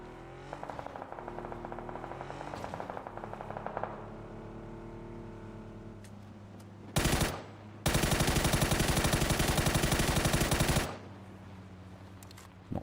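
Machine gun fire from an MG3 in the PUBG console game, rapid sustained bursts of loud automatic shots, one short burst followed by a longer one, with engine-like droning before.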